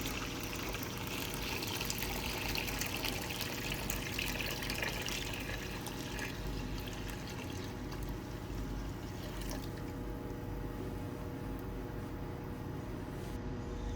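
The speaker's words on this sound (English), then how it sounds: "we're going to fill this up with about 4 liters of used electrolyte." Used electrolyte pours into a 6-liter silver refining cell as a steady, continuous liquid rush, fairly faint and unbroken for the whole stretch, with no speech.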